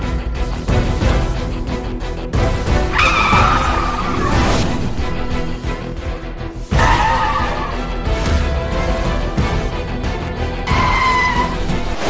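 Cars on a test course brake hard after a roadblock is pushed over in their path. Loud tyre squeals and skids recur several times over a constant engine and road roar, with crashing thuds among them.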